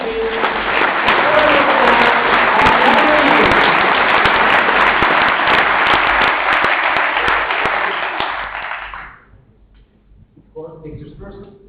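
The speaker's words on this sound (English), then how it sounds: "Finally, your applause," At a port industry event, an audience applauds a port deal with loud, sustained clapping that fades out near the end, followed by a brief spoken voice.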